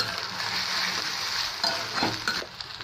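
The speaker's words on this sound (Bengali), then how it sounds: "এভাবে করে পেঁয়াজের সাথে আদা রসুনটাকে ভেজে নিলে সুন্দর একটা স্মেল বের হয় বন্ধুরা।" Ginger garlic paste fries with onions in a pan while being stirred, giving a steady moderate sizzle with occasional scraping clicks, no voices.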